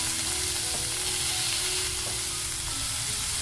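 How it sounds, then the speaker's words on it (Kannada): Finely chopped tomatoes fry in a pan with browning onions, giving a loud, continuous close sizzle with faint stirring. "ಈ ಟೊಮೊಟೊನ ಸ್ವಲ್ಪ ಸಾಫ್ಟ್ ಆಗೋ ತನಕ ನಾವು ಫ್ರೈ ಮಾಡ್ಕೋಬೇಕು"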